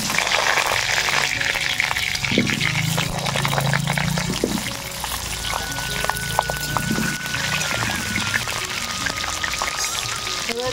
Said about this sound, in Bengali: এবার গোটা আলুগুলো দিয়ে দেব।